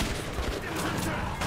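A short, continuous spray of gunfire in Metro 2033 Redux, loud and crowded with overlapping shots and no clear pauses.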